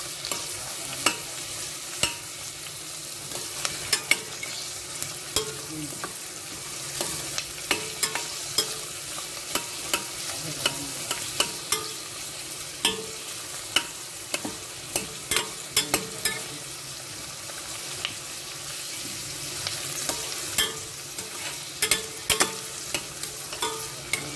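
Chunky onions are stirred and broken up in a frying pan for a Filipino-style ratatouille, with a steady soft sizzle under irregular scraping and tapping of the utensil against the pan throughout, close by and with no talking.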